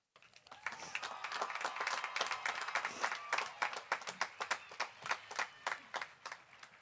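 A graduation crowd at a high school commencement ceremony applauds and cheers, dense clapping building into loud sustained applause that then thins into scattered rhythmic claps.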